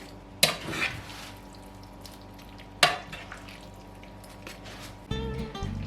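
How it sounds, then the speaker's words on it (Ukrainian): Carbonara pasta stirred in a hot pan with its sauce: a couple of sharp clanks of a utensil against the pan over a soft, continuous sizzle, close and quiet, with no talking. "І перемішуємо."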